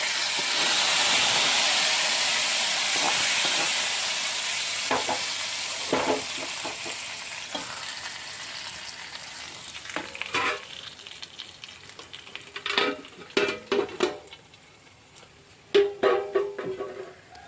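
Liquid poured and stirred into a pan of Kerala kurukku kalan: a steady sizzling hiss fades over the first stretch, then separate scraping stirs and clinks come at an uneven pace toward the end, close by, with no talk.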